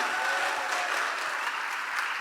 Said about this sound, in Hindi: मिस्टर तेज बहादुर सर के लिए शानदार ताली होनी चाहिए, जबरदस्त ताली होनी चाहिए